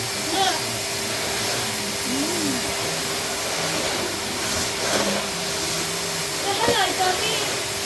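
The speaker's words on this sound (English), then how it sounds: "What are you doing? Hoovering." A George vacuum cleaner hoovers, its steady whining motor hum running throughout while a voice briefly rises over it.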